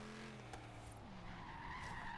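A car skids in a racing video game, braking poorly and sliding into a wall; a steady engine drone with a rising screech of sliding tyres runs throughout, fairly loud and with no talk over it.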